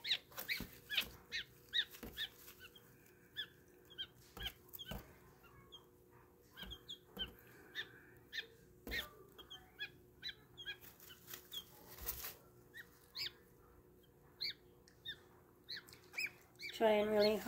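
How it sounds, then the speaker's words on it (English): A gosling that survived an incubator mishap peeps in short, scattered, high chirps, faint and close, alongside soft rustling and a brief louder call near the end. "little goose is making some noise."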